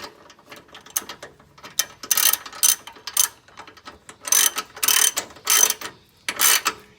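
A ratchet wrench clicks in short, close bursts while tightening the bottom nuts of V8 engine mounts on a VE-VF car, with several separate runs of rapid pawl ticks and brief pauses between them.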